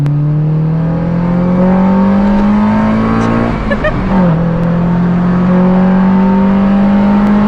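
A warmed-up, engine-swapped Honda Civic with VTEC holds a loud, steady high rev close by, its pitch dipping briefly mid-clip before climbing back to a sustained buzzing drone.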